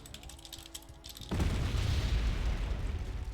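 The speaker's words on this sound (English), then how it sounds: "More artillery fires coming in." Incoming artillery fire lands in the real-time strategy game Wargame: Red Dragon, with a British Army force under attack. Faint mechanical clicking gives way to a sudden loud, sustained explosive roar that rumbles heavily for the remaining seconds.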